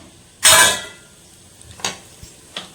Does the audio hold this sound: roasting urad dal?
yes